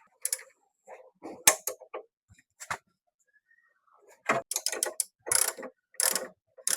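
Socket wrench ratcheting, working a 14 and 19 socket on a CNC job: bursts of quick clicking in short runs with pauses between, fairly close and moderately loud, with no talk over it.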